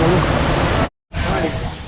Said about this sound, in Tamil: அருமையான நீர்வீழ்ச்சி பாருங்க